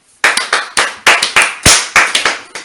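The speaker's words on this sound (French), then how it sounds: "Applaudissez pour elle." Scattered hand claps from a small church congregation, about a dozen sharp, uneven claps over a few seconds, close and fairly loud with no talking.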